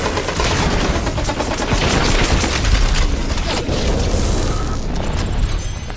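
Dense, sustained gunfire and booming blasts from a Guardians of the Galaxy combat sequence, a loud continuous barrage of weapon fire and explosions filling the whole stretch with no pause.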